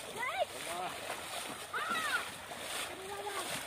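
A fish is pushed into water with a soft splash outdoors, partly covered by several people talking excitedly nearby.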